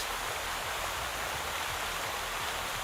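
Water splashing during a fishing scene in the Twisted Wonderland video game, heard as a steady, even rushing hiss like running water or rain, continuous and fairly soft throughout, with no voices.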